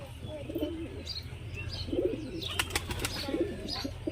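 Murshidabadi pigeons in a village loft coo in soft, low repeated bursts, with a few faint chirps and a brief flutter in the background.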